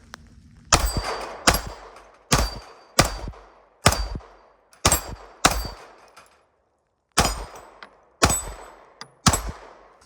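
Eleven sharp, loud pistol shots from a S&W Equalizer fired with a small magazine, in irregular bursts with a pause near the middle, each crack ringing out briefly, no talk.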